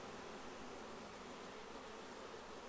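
Honey bees hum at an open hive entrance on a warm May day, a faint, steady swarm drone that holds without a break.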